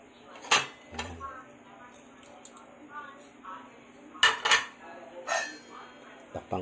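A lid goes onto a pot of chicken adobo with bay leaves simmering on medium heat, giving a few sharp metallic clanks and clinks in separate bursts, with quieter kitchen handling sounds between them.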